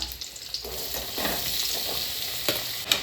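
Onion and garlic fry for chilli chicken in a pan, a continuous bright sizzle broken by several scraping stirs, close up with no one speaking.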